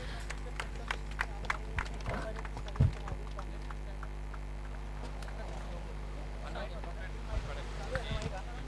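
Applause at a prize ceremony for a Raigad masters cricket tournament, scattered claps from a crowd heard over a steady hum, with a voice speaking on a loudspeaker throughout.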